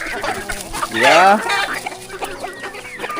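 Chickens cluck and squawk close by, with one louder drawn-out call in the middle over a busy farmyard background, and someone briefly speaks.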